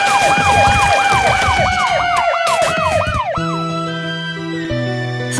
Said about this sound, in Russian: Это Блейз, пожарная машина